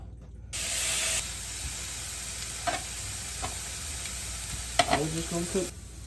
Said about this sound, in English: Now we're finna put the steak on the skillet.